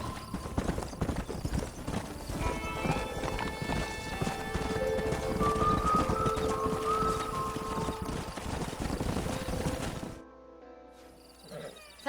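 Horses gallop in Red Dead Redemption, a steady loud clatter of hooves with occasional whinnies and snorts, close up and continuous before cutting off near the end.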